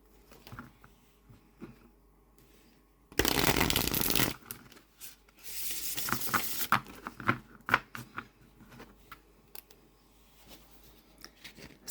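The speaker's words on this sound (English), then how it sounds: "Take a look at the shuffle really quickly" A linen-finish tarot deck being shuffled close up, with two bursts of riffling cards followed by scattered taps and soft handling sounds, quiet and without talk.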